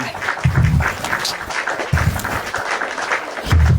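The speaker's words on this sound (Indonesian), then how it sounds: "Tepuk tangan buat RK." Audience applause after a discussion event, a dense crackling wash of many hands clapping that holds steady for several seconds with low thumps mixed in.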